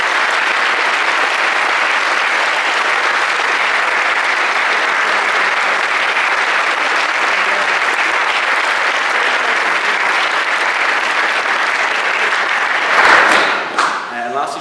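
A large audience at a university society's inaugural session applauds its council members in a steady, dense round of clapping that fills the whole stretch, thinning out near the end as a few louder claps and rustling break through.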